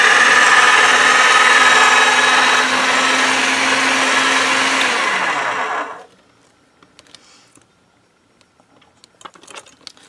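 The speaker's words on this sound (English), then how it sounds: "I'm going to roll it out on the number 3 setting of the pasta machine" A motorized pasta machine rolls out polymer clay on its number 3 setting, a loud steady whirring drone lasting about six seconds before cutting off, followed by faint handling clicks.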